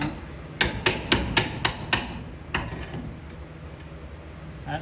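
A hammer strikes a steel beam laid on an anvil: six sharp metallic blows in quick succession, then a few slower, fainter taps, all close and clear with no talking.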